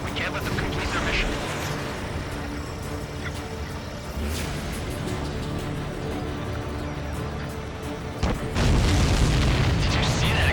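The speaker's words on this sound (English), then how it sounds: "Did you see that explosion?" A supply ship blows up in the video game Ace Combat 7, heard as a loud, sustained rumbling boom over continuous jet and game noise, with a further heavy burst near the end.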